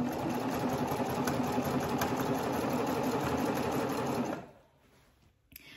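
Serger sewing machine stitching fabric for a pair of cuffed pants, a fast steady mechanical whirr running close and loud for about four seconds before stopping, followed by a faint click.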